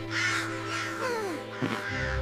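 Crows caw repeatedly in a morning scene, with several loud, close calls overlapping against a steady background.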